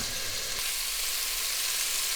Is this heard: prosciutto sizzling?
yes